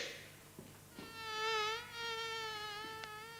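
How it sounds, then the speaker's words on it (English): Mosquitoes buzz close by in a rising, wavering drone with a clear whine that swells and dips for several seconds, alone with a few faint knocks and no talking. "do something about these blasted mosquitoes"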